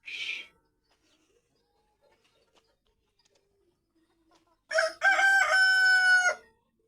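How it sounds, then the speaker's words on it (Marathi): A brief squawk from a chicken, then near silence, followed by a loud, close rooster crow lasting a couple of seconds. "हे बघा कोंबड्या"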